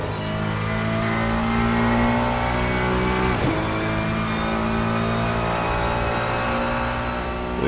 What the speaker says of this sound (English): it's accurate to what the Ferrari V6 sound is